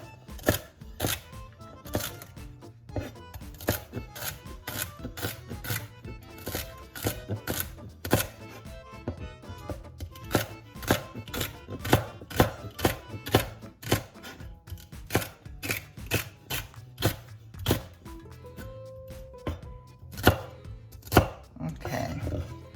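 A knife chops celery on a cutting board for soup, a long run of sharp, close knocks in an uneven rhythm with short pauses between bursts.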